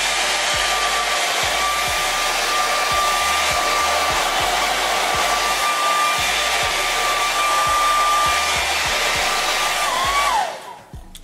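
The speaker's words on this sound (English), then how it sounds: "So we're gonna go ahead and blow dry it." A handheld blow dryer drying a curly hair frontal wig, a loud constant whooshing roar with a steady motor whine, running uninterrupted close to the microphone before switching off and winding down at the end.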